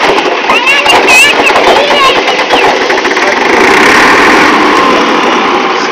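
A tractor being started, with a loud continuous close engine roar that rises and steadies, and voices talking over it.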